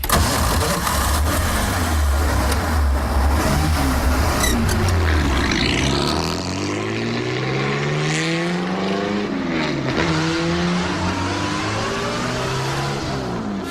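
A Bugatti Type 51 racing car engine fires and settles into a loud, close, rumbling idle, then revs rise and fall in a deep roar that continues throughout.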